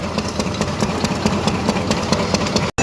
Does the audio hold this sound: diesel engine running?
yes